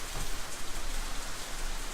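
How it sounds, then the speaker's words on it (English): Heavy rain falls steadily in a visual novel game scene, a dense, even hiss of drops on surfaces with no voices. "the combined noise of the wind and the rain"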